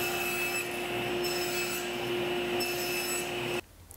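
Wood being sawn to length for butterfly keys, a steady close rasping cut with strong tonal machine hum running continuously for about three and a half seconds before stopping abruptly.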